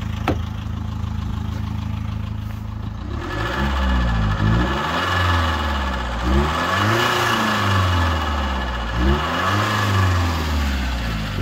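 A 2016 Range Rover Evoque SE eD4 engine idles and revs in repeated surges, with a puffing, ticking exhaust leak at the front riding on the engine note close by.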